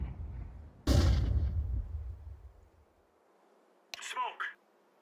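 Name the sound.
flashbang grenade going off in a shooter video game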